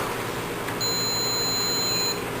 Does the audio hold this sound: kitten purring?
no